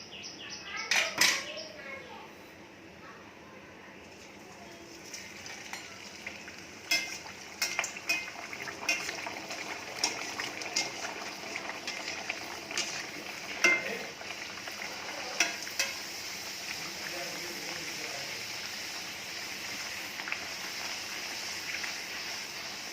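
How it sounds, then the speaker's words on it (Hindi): Bedmi puris fry in hot oil with a soft, steady bubbling sizzle. Occasional clinks and stirring taps of a utensil against the pan cut through, and the whole is fairly faint and close. "तेल हमारा गर्म हो चुका है। अब इसमें पूड़ी डालेंगे। थोड़ा तेल को ऐसे हिला देंगे।"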